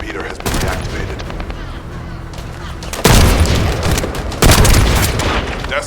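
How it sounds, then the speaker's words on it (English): Bursts of gunfire and booming blasts from the video game The First Descendant roll on throughout, growing louder in two heavy volleys near the end, with voices faintly underneath. "That stopped the gunfire."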